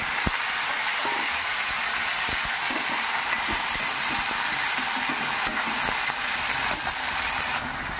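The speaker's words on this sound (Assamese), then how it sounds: "এতিয়া পাঁচপন কেইটা ফুটাই মই ইয়াতে প্ৰথম অমিতাখিনি ভাজিম।" Papaya pieces fry in hot oil with panch phoron spices in a pan for an Assamese kharoli dish. A steady, even sizzling hiss runs throughout, dotted with small soft pops, close up and with no talk.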